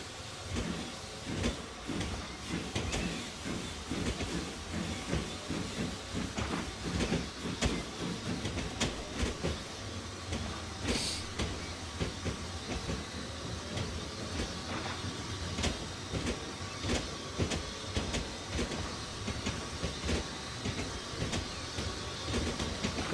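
A Jinty steam tank locomotive runs from Bristol to Bath on the Somerset and Dorset line in Train Simulator 2019, clattering and chuffing in a steady rhythm that stays moderately quiet for over twenty seconds, with no talking.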